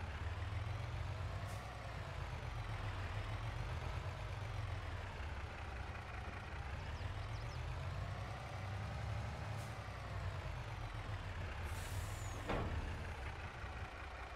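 A truck pulling a trailer with air brakes in Farming Simulator 22 drones steadily with a low engine rumble that rises and falls, with a brief sharp hiss of air near the end.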